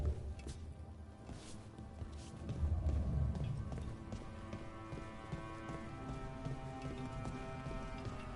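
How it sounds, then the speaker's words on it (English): Rain falls steadily in a soft, continuous patter heard at low volume, with faint background tones beneath it and a brief thicker swell partway through. "Raining again."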